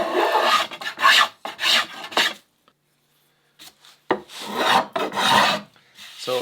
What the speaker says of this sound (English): block is kind of getting in my way here, so just shave it down a bit.